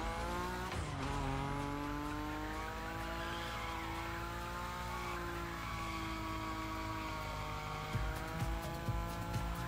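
A Nissan Nismo slides at high speed with a long, sustained tire squeal in The Crew Motorfest, the engine holding a steady high drone beneath the wavering screech; a voice briefly exclaims.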